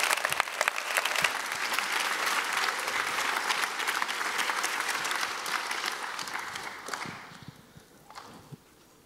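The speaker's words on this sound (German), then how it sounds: "Gib ihm einen richtig großen Applaus." Sustained applause from a large crowd at a church's 20th-anniversary celebration in Karlsruhe, loud and dense with many hands clapping, tapering off toward the end.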